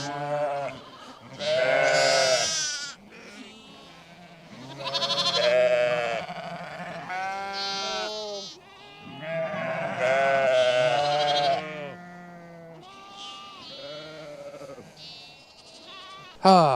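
A lamb bleats repeatedly at close range on a sheep farm during lambing season, several wavering cries separated by short pauses, loud and alone with no talking.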